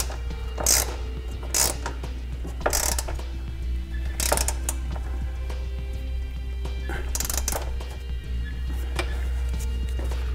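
Small nuts being tightened onto the heat shield of a 2013 Hyundai Veloster during a trailer hitch install, giving repeated bursts of ratchet clicking close by over a steady low hum, with no talking.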